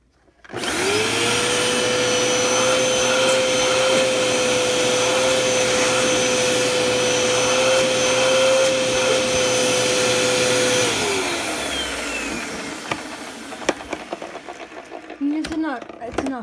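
A vacuum cleaner with a full set of attachments runs loud and steady for about ten seconds, then winds down, with handling clatter afterward.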